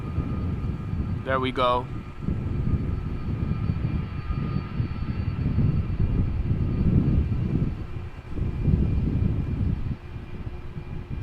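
A large airliner takes off at Amsterdam Schiphol, its engines a deep, steady rumble that builds and holds with a low throb, while someone speaks briefly near the start.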